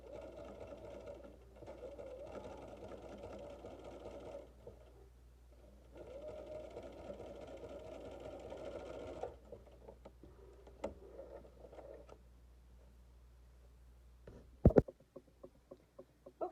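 Sewing machine stitching a pleated fabric face mask, running in two steady bursts of rapid needle chatter separated by a short pause, followed by quieter handling clicks and a sharp knock near the end.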